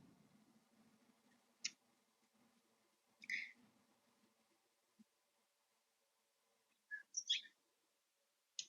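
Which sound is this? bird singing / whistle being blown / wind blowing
bird singing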